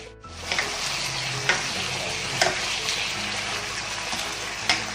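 Chinese kale and crispy pork stir-frying in a hot pan, a steady loud sizzle throughout with occasional sharp scraping clacks of the spatula against the pan.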